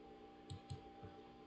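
A computer mouse clicks while opening a file in Gerber viewer software, two or three soft close clicks in quick succession, quiet and alone.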